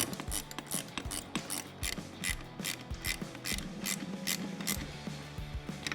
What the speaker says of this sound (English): Take our 10mm wrench. Ratchet it down.